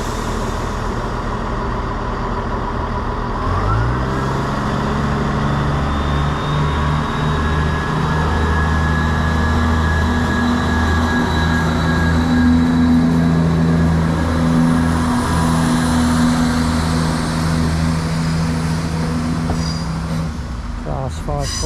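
A low emissions Class 531 train departing on the Derwent Valley line, its engine note rising as it pulls away and settling into a steady loud drone, with a speaking voice heard at times.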